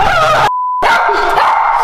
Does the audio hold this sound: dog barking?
yes